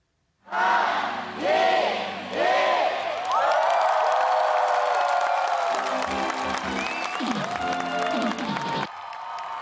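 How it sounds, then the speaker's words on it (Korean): Roughly ten thousand university students at a summer retreat erupt into loud cheering after a countdown, a massive roaring crowd with shouts and whoops that swells and holds, then cuts off abruptly near the end. "카운트다운이 끝나고 만명 대학생들의 환호로 2016 CCC 전국 대학생 여름 수련회가 본격적으로 시작됩니다"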